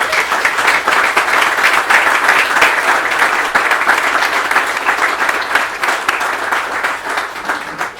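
A crowd at an outdoor celebration for a southern New Hampshire regional water interconnection project applauds in sustained, dense clapping that holds steady before gradually thinning at the end.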